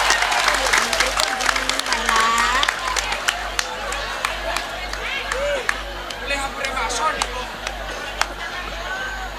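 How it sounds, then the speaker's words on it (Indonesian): Audience applause at an Indonesian Islamic religious gathering, scattered claps and crowd murmur rising under a loud amplified hum, with sharp individual hand claps standing out now and then. "Tepuk tangan dong"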